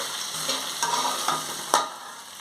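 Sliced okra fries in hot oil in a pan and is stirred, giving a constant soft sizzle broken by a few sharper scrapes and clicks of the spatula, the last one loudest, with no talking.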